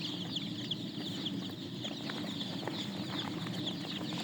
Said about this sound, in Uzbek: Mana jo'jalarimiz.